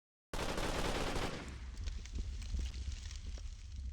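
A chain gun fires in the video game Fire and Ice as a loud continuous rattling burst that starts abruptly after a moment of silence, then tapers into a rougher, noisier rumble.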